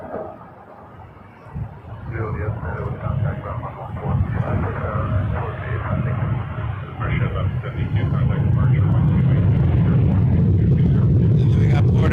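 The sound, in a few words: WestJet Boeing 737-800 airliner departing Toronto Pearson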